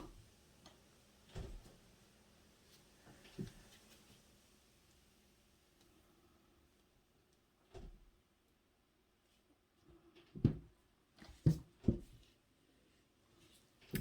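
Van doors rattling in strong wind: sparse knocks and rattles against near-silence, a few isolated thumps early on, then a quick cluster of sharper clattering bangs.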